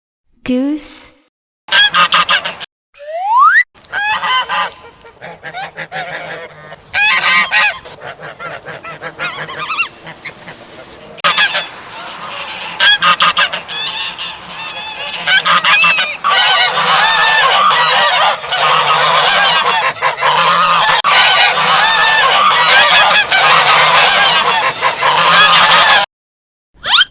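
A goose honks loudly and repeatedly up close, the harsh calls growing denser and more continuous toward the end, preceded by a brief spoken word.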